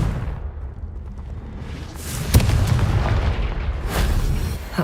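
Booming blasts from the Confringo fire spell in the Hogwarts Legacy video game, a couple of sharp explosive cracks over a rumbling, crackling game soundscape.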